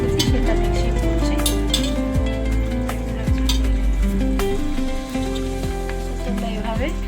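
Biryani being stirred and mixed in a pot, with a utensil repeatedly scraping and clinking against the metal under a constant low hum, close and loud.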